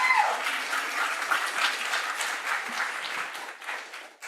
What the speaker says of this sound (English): Feel free to give a round of applause here.